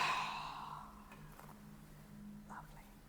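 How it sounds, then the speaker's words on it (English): A slow breath out during a Pilates reformer stretch, soft and airy, fading over about a second, then quiet room tone with a faint low hum. "Exhale."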